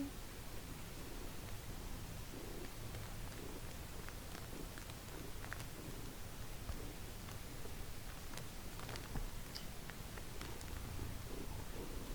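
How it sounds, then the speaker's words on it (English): Low, steady purring from a cat, faint and close, blended into a hiss of background noise with occasional small ticks. "Purr, purr, purr."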